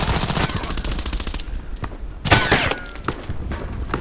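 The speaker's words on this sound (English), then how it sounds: "You see, he was already shooting at me." Automatic gunfire from enemies in the shooter game Contract Wars, loud rapid bursts at first, then a pause, then sharp scattered shots with ricochet whines and a few single cracks.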